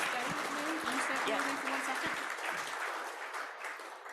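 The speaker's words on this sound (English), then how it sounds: "let's give a big round of applause" Audience at a Kiwanis club meeting applauding a guest speaker, a steady wash of clapping with a voice speaking over it and a low hum underneath.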